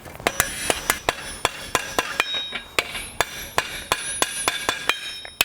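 A blacksmith's hammer strikes hot iron on the anvil to widen and flatten it, ringing blows landing close and loud in a steady rhythm of roughly three per second, with no talking.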